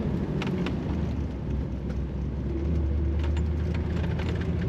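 A 1973 Chevrolet Corvette coupe's engine rumbles as it downshifts to second gear on a snowy road, a loud, close, low engine drone that swells slightly toward the end under steady road and wind noise.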